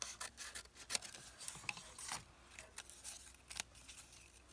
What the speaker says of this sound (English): And then I'm going to cut along here.